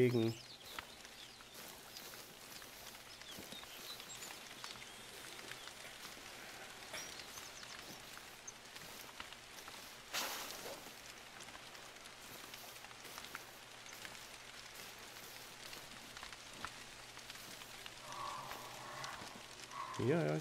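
Steady rain falls in the hunting game The Hunter: Call of the Wild, a faint, even patter across the whole stretch, with a voice occasionally heard over it.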